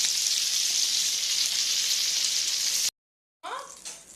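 Chicken deep frying in hot oil for a KFC-style fry, a dense, steady hiss and crackle close by that cuts off abruptly, then returns briefly with bubbling and scraping.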